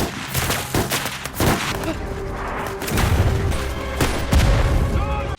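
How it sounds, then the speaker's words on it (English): Gunfire from German troops in a war film: a dense, chaotic mix of sharp shots and heavy booming bursts, loud and continuous throughout, with battle-scene rumble underneath. "German troops find them and start shooting at them."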